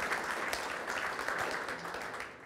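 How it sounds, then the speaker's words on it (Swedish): Audience applause welcoming a cultural historian's lecture in Blekinge, Sweden, a modest, fairly quiet patter of clapping with some individual claps standing out, fading slightly toward the end. "jag tycker vi börjar med en varm applåd till Mikael."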